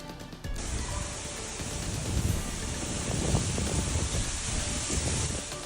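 Strong wind on San Antonio's far north side roars steadily across the microphone as a dense, rushing buffet with no break and no voices.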